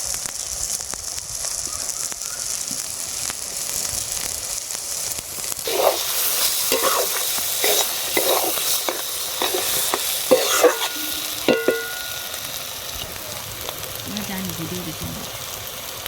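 Spice paste sizzling and being stir-fried in a pan for prawn and brinjal curry, a continuous hiss with a run of spatula scrapes and knocks in the middle, moderately close, no talking heard.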